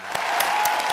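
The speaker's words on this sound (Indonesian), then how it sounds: "Tepuk tangan untuk kelompok 4." Brief burst of classroom applause for a student group presentation, a dense patter of hands at moderate loudness with no talk over it.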